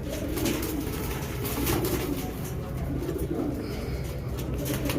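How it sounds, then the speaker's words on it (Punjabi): Many pigeons coo steadily and continuously at a busy outdoor pigeon market in Shahdra, among green Chinese pigeons, with a constant murmur of market noise underneath and no clear talk. "ਇਹ ਤੇ ਸਬਜ ਚੀਨਾ ਕਬੂਤਰ ਹੈ।"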